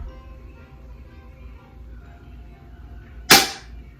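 A single sharp crack from a Double Eagle M27 BB gun with locking slide, fired at an orange, standing out loud and close against quiet background hum.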